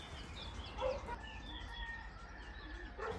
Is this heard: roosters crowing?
yes